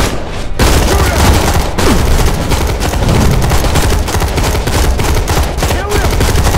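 Shooter video game firefight: loud, relentless rapid gunfire with crackling bursts and sharp shots packed densely throughout, close and dominating, with no clear speech over it.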